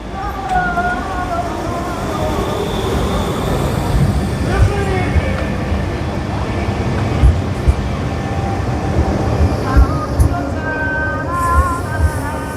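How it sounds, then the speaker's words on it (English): Old trams running through a European city street, a loud, close rumble with squealing, whining tones from wheels and motors, mixed with traffic and voices nearby. "So let's stop being distracted by these awesome trams"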